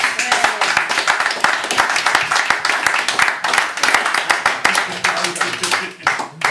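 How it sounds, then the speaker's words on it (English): An audience claps for a performer at the close of an evening event, with uneven clapping from many hands and voices talking and murmuring over it, fairly loud and close. "More applause for Steve Tasane."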